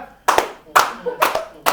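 Hand clapping in a small group, four sharp claps spaced unevenly about half a second apart, close and loud, with faint voices between them.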